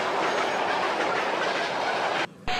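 A train rushes into a station platform as a story sound effect: a loud, continuous rolling rumble with rhythmic wheel clatter that cuts out briefly near the end.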